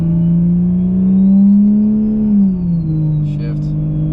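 Inside a Toyota Supra with a T51R mod, the engine drones steadily as the car accelerates, its tone rising gently before easing off and settling into a lower hum.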